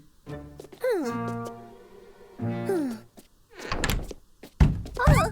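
Door knocking in a Hindi children's cartoon, Dolly and Friends: a few dull thunks land among sliding, tonal cartoon sounds, with the knocks clustering toward the end.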